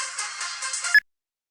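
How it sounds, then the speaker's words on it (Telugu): A phone ringtone for an incoming call chimes steadily at moderate volume, alone, and cuts off abruptly after about a second. "ఐశ్వర్య ఫోన్ చేస్తుందంటే ఐశ్వర్యకేం కాలేదా?"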